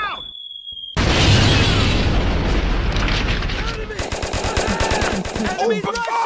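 Rapid machine gun fire with heavy booms in the WWII VR shooter Front Defense, loud and dense from about one second onward, bursts continuing throughout as voices shout over the battle.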